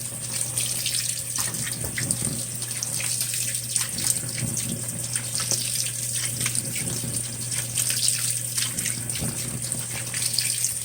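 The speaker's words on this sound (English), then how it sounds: "it's running water through the softener" A Whirlpool Cabrio WTW7000 washing machine runs water through its softener dispenser in a constant, even rush with a faint low hum beneath, unbroken throughout.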